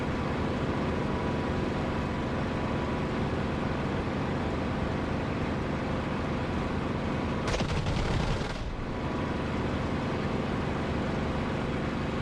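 In the DCS flight simulator, an aircraft's guns fire in a dense, rapid burst lasting about a second, cutting sharply through a constant loud engine drone that runs before and after.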